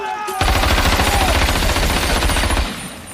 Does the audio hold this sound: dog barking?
no